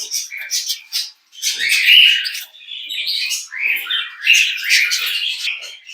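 Rainbow lorikeets in a breeding aviary chirp and squawk in quick, busy bursts, loud and close, overlapping one another almost without a break.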